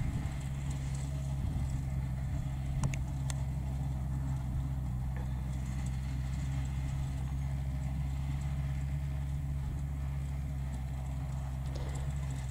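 A Yanmar EF514T small tractor tills a large dry field, its engine giving a steady, close, continuous low drone with a faint rattle of tillage running throughout, with no talk over it.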